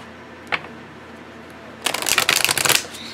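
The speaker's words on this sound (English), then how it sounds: "So let's see how these shuffle together." Oracle cards riffle and slap together as a deck is shuffled by hand, a brief tap first and then a dense burst of rapid crisp flicking lasting about a second, close and loud.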